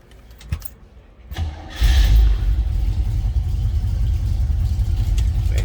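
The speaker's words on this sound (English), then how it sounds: "We're going to go ahead and start it up. So you can hear it run." A 1963 Chevrolet Impala SS engine cranks briefly and catches, then settles into a loud, steady, deep rumbling idle close by, after a few faint clicks and a jingle of keys.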